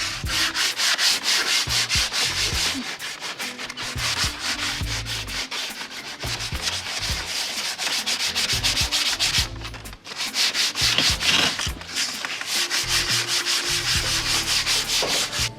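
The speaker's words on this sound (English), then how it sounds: "we are just using the P80 sanding paper to just give it a smooth finish" Steady, rough back-and-forth scratching of P80 sandpaper over a wooden dining table, smoothing it before clear varnish. The strokes run loud and close almost without a break, with one brief pause, and no voices.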